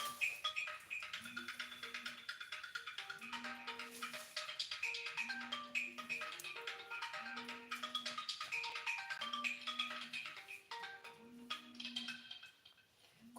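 A phone ringtone repeats in a steady cycle of short melodic tones in a home kitchen while cooking goes on, moderately faint and continuing without interruption.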